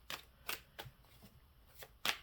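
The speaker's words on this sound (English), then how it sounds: "Do one more shuffle." Cards being shuffled in several quick bursts, five or six crisp riffling flutters spaced irregularly over two seconds, close but quiet with no talk.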